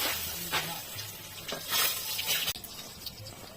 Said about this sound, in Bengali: তেলের ওপর জিরে আর শুকনো লঙ্কা ফোড়ন দিলাম।